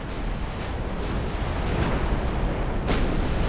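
Cannons fire and explosions rumble through a naval battle at Port Arthur in a video game, a dense, continuous low roar with a few sharper blasts rising out of it.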